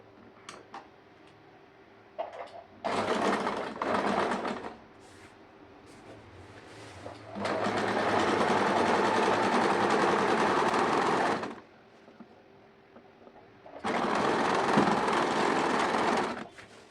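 A sewing machine stitching the folded inner hem of a churidar slit runs in three bursts, a short one, a long steady run and a final stretch, with quiet pauses between.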